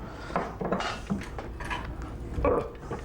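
Spoon scraping and clinking around a bowl while melted chocolate is mixed into butter and sugar, a run of irregular close scrapes and taps with no talking.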